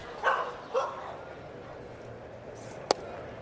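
A dog at a Dodgers versus Pirates baseball game gives two short, faint barks half a second apart over steady ballpark broadcast ambience, followed later by one sharp click.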